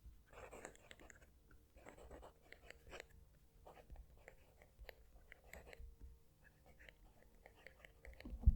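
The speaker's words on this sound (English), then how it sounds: "I'm going to move the mic down to the page so you can hear the pen write." A Majohn S5 fountain pen nib writes on paper, heard close but faint as soft scratchy strokes in short bursts with brief pauses, over a quiet background.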